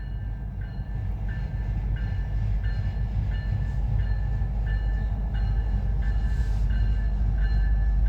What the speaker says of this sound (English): 100-car coal train that went through. 5 minutes later, here comes another one.